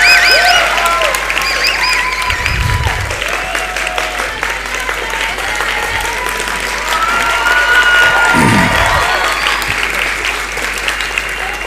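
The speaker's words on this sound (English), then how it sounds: "Let's give them another round of applause." Audience applause with some cheering fills a hall at an evening arts event after a university arts school's musical performance, steady and dense throughout, with a few low thumps.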